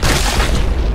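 A bomb goes off in the video game Happy Wheels: a loud, deep, rumbling boom that fills the whole second.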